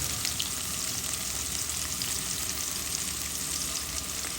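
Cinnamon, bay leaves, cloves, black pepper and onion fry in a pan for a chicken gizzard curry, giving a steady, close, even sizzle with no pauses and no voices.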